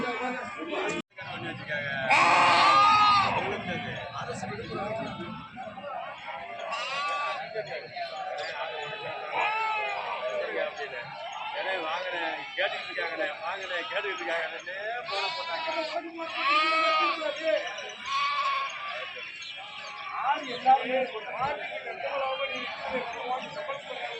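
Goats bleat repeatedly at the Ettayapuram goat market, their cries rising over a steady bed of close crowd chatter and people talking throughout.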